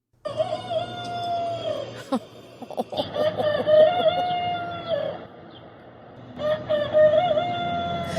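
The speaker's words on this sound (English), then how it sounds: "But it's still a full-on crow." A rooster wearing a no-crow collar crows in long, strained calls that sound muffled and choked, several drawn-out crows in a row, fairly close.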